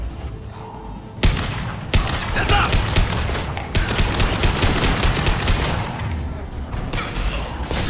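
Dense, loud gunfire from the video game Mass Effect 2, with rapid bursts and booming impacts running continuously through combat, fading briefly at moments before resuming.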